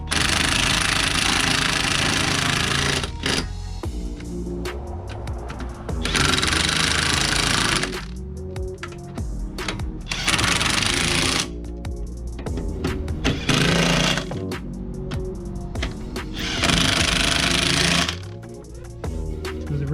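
A pneumatic impact wrench tightens car wheel lug nuts during a tire rotation, firing in repeated loud rattling bursts of a few seconds each with short pauses between, close by and alone.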